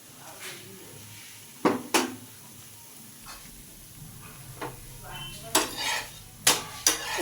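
A crisp potato paratha finishes frying in a pan and is lifted out, with a faint sizzle beneath sharp metallic clinks and scrapes of a spatula against the pan in quick irregular bursts.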